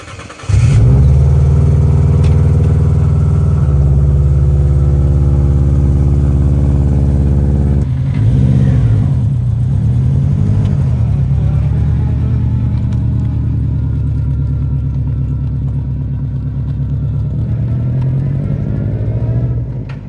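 A compound-charged Subaru Impreza with an Xshift sequential gearbox starts and idles loudly and close, with a deep, rough engine rumble. A couple of blips of the throttle lift its pitch before it settles back to a steady drone.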